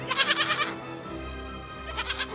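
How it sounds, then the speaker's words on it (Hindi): A goat bleats in two wavering bursts, one at the start and another near the end, set in a night scene by bushes in an animated story. "कोई जवाब नहीं आता, बस एक बकरी की आवाज आती है।"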